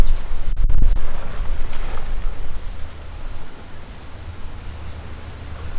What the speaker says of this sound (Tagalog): grabe ang lakas ng hangin mga ka-studio